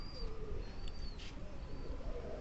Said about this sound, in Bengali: কত সুন্দর ডাক আমার কবুতরের, এই যে দেখেন ডাকতেছে।